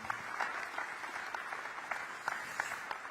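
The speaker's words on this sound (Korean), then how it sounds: "다시 한번 큰 박수 부탁드리겠습니다." A room full of people claps steadily, a dense, even patter of applause at moderate distance lasting throughout.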